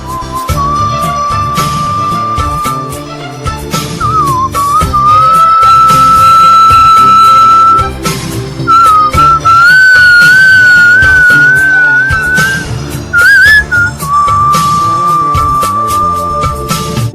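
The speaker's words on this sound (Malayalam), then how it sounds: "കോളേജ് കാലത്ത് പാട്ടുകളുടെ കരോക്കെ ട്രാക്കുകൾ ഇട്ട് ചൂളമടിച്ച് പരിശീലിച്ചു" A man whistles a song tune along to a karaoke backing track. The melody is clear and sustained and runs loud over the music, with short breaks and a few quick trills across the whole passage.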